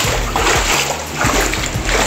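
Flood water covering a shop in South Louisiana splashes and sloshes loudly up close, a few churning surges over two seconds with no speech.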